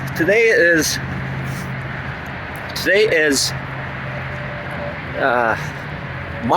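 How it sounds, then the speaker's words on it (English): A steady drone of highway traffic hums in the background as cars pass continuously, with a person talking intermittently over it nearby. "Those are cars on the highway."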